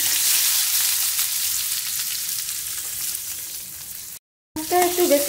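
Onions dropped into hot oil with panch phoron five-spice for a village-style prawn curry, a steady loud sizzle and crackle throughout, briefly cut off near the end before frying resumes with a sharper spatter.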